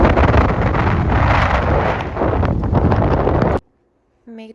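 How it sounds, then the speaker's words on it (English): Boat sailing on Grey Lake with strong wind buffeting the microphone, a loud continuous roar with rushing water that cuts off abruptly, followed by quiet and a brief voice. "So we are sailing right now on the Gray Lake"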